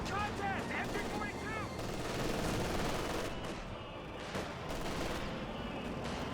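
MG-42 machine gun fire in the video game Company of Heroes 2, sustained rattling bursts mixed with other battlefield gunfire and blasts, a voice briefly calling out over the din.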